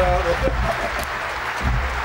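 Spectators at the Police World Cup rugby final between Fiji and Australia clap and cheer in a broad, steady wash of applause, heard beneath a commentator talking.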